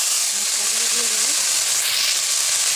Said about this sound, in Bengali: আমি মশলাগুলো একটু ভালো করে কষিয়ে নেব